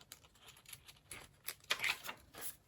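Scissors snipping fabric while trimming a master board into a fabric hinge: a few quiet, close, irregular crisp cuts and rustles, no talk.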